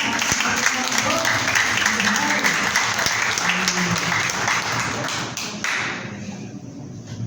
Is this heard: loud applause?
yes